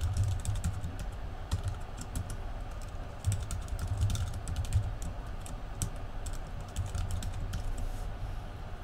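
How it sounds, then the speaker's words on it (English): Steady, quiet clicking of fingers typing on a computer keyboard, rapid and continuous with small pauses, heard close with no talking. "Okay, and I can type in comments."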